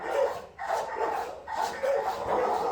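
A dog barks at an animal shelter, a run of close, sharp barks in quick succession with a few short yips between them.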